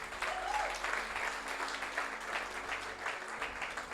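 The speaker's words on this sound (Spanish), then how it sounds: "Dele un aplauso al Señor." Church congregation applauding together, a steady wash of clapping from many hands that fills the room evenly for several seconds without a break.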